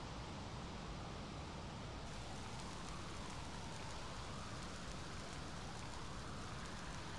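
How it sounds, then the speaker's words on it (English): Steady, heavy rain hisses without a break, a dense stormy downpour drumming on surfaces with no voices or pauses, in the video game Shenmue II. "Starting to rain."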